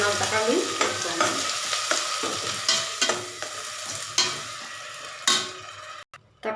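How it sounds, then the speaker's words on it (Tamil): Tomatoes and onions sauté in a pan with a steady sizzle, and a spoon stirs and scrapes through them again and again in uneven strokes. There is no talk, and the sound cuts out briefly near the end. "தக்காளி நல்லா வதங்கிடுச்சு"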